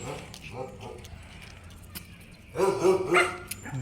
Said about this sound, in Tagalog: ang laki na asong yan, lulunukin ka niyan